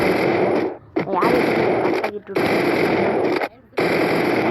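Rapid automatic gunfire crackles loudly through a video game shooter match, with bursts broken by brief gaps.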